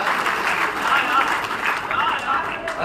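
An audience applauding for a person named Gaurav, a steady crackling patter of many hands at moderate distance, continuing for a few seconds with a voice speaking over it.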